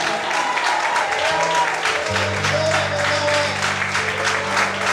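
A church congregation claps and cheers loudly and continuously during a morning service while sustained organ or keyboard tones swell underneath.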